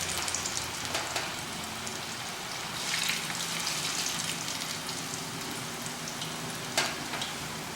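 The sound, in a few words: green fish pieces frying in a pan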